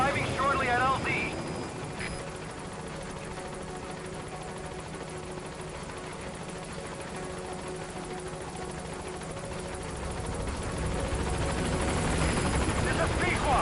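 Helicopter arriving at a landing zone in the video game Metal Gear Solid V: The Phantom Pain, a steady rotor thump and engine drone that swells louder near the end, with radio voices over it.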